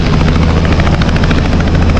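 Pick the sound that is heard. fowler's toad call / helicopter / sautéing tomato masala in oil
helicopter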